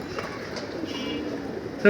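Pigeons coo inside a loft on an afternoon as the birds are readied to fly. Low, soft coos repeat steadily at close range, with a brief louder burst at the very end.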